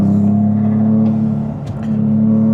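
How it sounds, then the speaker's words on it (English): Toyota GR Corolla engine droning steadily at close range with a loud intake hum, then a brief fluttering surge from the turbo compressor partway through before the drone resumes. "A little bit of compressor surge there that I'm hearing"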